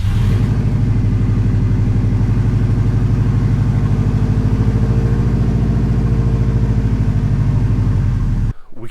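A Subaru STI engine, just cleared of a P2016 fault code, settles into a steady, loud running idle with a rhythmic rumbling pulse that continues evenly until it cuts off abruptly near the end.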